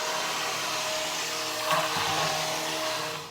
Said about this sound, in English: And then we're gonna puree that too.